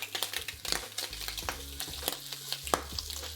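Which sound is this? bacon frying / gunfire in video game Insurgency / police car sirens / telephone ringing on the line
bacon frying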